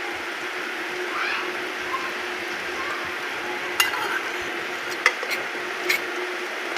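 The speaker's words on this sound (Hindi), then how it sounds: "अब डालेंगे जी हम अंडे।" Eggs go into onions in a cooking pan for a village breakfast dish, giving a soft, steady sizzle punctuated by a few sharp utensil clinks against the pan.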